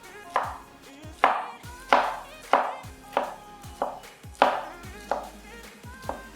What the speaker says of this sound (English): Cut your fresh pineapple up into about 1 cm slices.